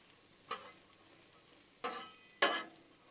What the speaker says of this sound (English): I want to sweat these onions down slowly